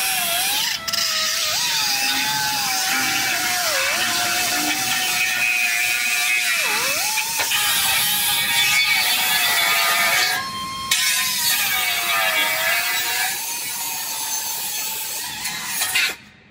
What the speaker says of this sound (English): I'm just gonna cut this cross member in half and get this out of the way